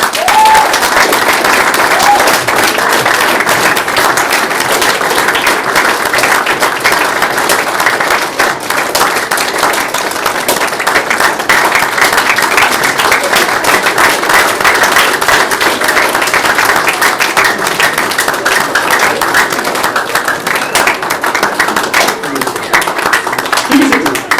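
Sustained audience applause from a live crowd, dense and steady clapping at full strength throughout with no pauses, with crowd noise mixed in.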